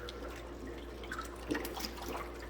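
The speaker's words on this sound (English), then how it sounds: "Just give that a quick little stir." A spoon swirls honey turkey brine in a container, giving a soft continuous watery slosh with light drips and a small clink partway through, heard close and quiet with no one talking.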